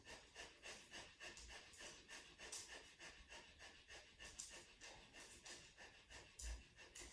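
Breath of fire in a yoga exercise, quick rhythmic panting breaths through the nose at an even pace of about two per second, close and steady, with no talking.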